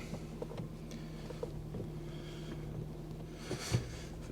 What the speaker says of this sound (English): quick drive. Just to test this clutch.